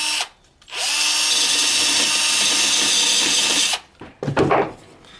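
Power tool sanding the muffler of a Husqvarna 572 XP chainsaw, one loud continuous high-pitched grinding burst of about three seconds, close, followed by a few short clattering knocks.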